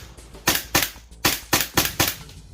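A WE Tech Desert Eagle gas blowback airsoft pistol fires six sharp, close shots in quick succession, each a crisp snapping crack with a short mechanical clack, standing alone.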